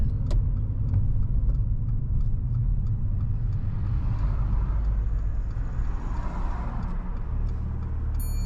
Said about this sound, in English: You can pull over and park up on the left hand side somewhere safe.